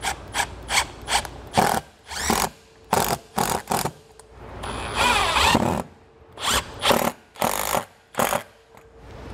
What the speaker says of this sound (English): So I'm gonna go ahead and we are gonna shoot our 2 screws into our legs.